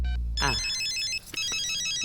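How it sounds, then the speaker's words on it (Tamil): A telephone ringtone chirps in a rapid, repeating electronic pattern, loud and close, after a brief swooshing sound, with a couple of small clicks in between. "என்னடா கண்ட நேரத்துல எல்லாம் ஃபோன் பண்ணிட்டு"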